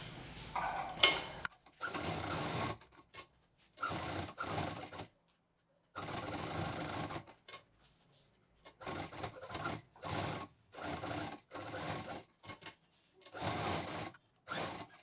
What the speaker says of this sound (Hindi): ब्लैक पर भी हम ब्लैक धागा लगा करके और उस पर सिलाई कर देंगे